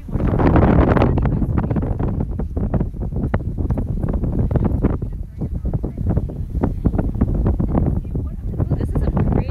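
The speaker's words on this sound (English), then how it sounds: "I think the wind is like everywhere." Wind at the beach blasts the microphone in loud, continuous low rumbling bursts that shift in strength throughout.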